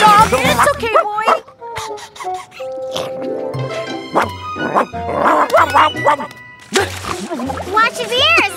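A cartoon dog yips and barks in short, loud bursts, repeated throughout, with excited character voices talking and shouting over the barking in an animated episode.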